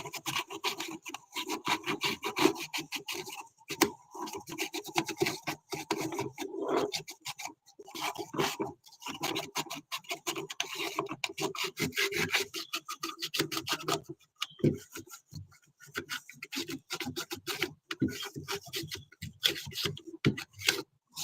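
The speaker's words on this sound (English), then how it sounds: "I'm gonna clean out the socket." Socket on old retro computer hardware being scrubbed clean, a quiet, close rhythmic rasping and rubbing in short irregular strokes with brief pauses between them.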